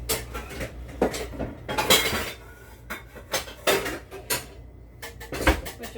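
A frying pan is pulled out and handled in a home kitchen while cooking fried green tomatoes, giving irregular metallic clanks, knocks and clatter of cookware at close range, with no talking.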